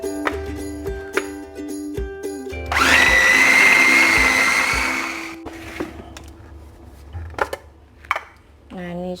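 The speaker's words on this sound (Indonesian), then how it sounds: "Nah, ini kita mau blender." A kitchen blender whirs loudly, blending a dori fish mixture with salt and seasoning for pempek fish cakes, running steadily for a few seconds between quieter clinks and handling sounds.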